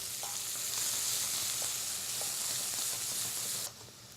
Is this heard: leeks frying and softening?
yes